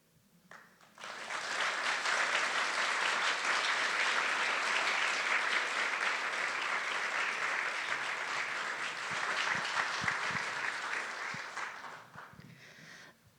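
Audience applause after a poetry reading at a showcase event, a sustained burst of clapping that swells quickly, holds steady for about ten seconds and then tapers off.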